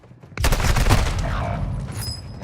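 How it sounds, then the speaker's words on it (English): Video game gunfire from a squad-based shooter match, a sudden loud burst of rapid shots that breaks in sharply and keeps crackling steadily at close range, with no talk over it. "The guy shooting at me."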